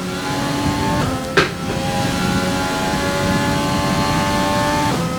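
Race car engine in the F1 2020 racing game drones loudly and steadily at high revs, with a brief sharp blip partway through and no talk over it.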